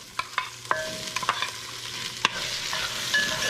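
Onion and celery sautéing in a pan, with soft, steady frying sizzle and several sharp clicks and scrapes of a utensil stirring the vegetables, close and moderately quiet with no talking.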